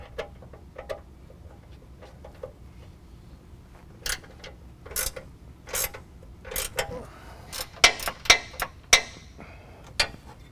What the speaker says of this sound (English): Now we're going to use a 15 millimeter and pull those out. I'm using a ratcheting wrench.